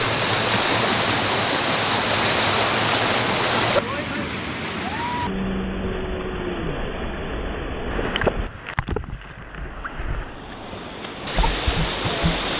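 Nafakhum waterfall in Bandarban, Bangladesh, with a powerful current, roars as loud, continuous broadband rushing water throughout, with a few abrupt level shifts and some louder splashing bursts near the end.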